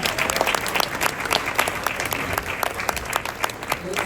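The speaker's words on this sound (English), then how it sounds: "we should also give a warm round of applause for the NHS" An audience at a Q&A talk applauds in honour of the NHS, a short burst of steady, sharp clapping from a crowd at moderate distance.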